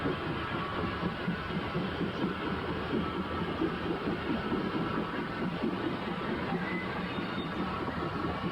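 A steam train runs on the Spa Valley Railway near Tunbridge Wells, a steady rumbling roll with a faint rhythmic clatter that holds at an even level throughout, close by.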